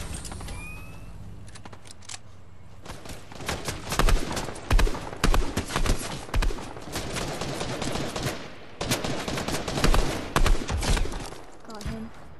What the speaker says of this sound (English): A bunch of gunfire.